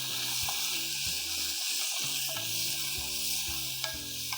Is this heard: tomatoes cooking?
yes